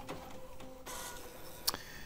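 An inkjet-style printer running off a sublimation design file for a hat patch, heard as a steady low mechanical whir with faint ticking, a brief louder clack near the end, and no talking.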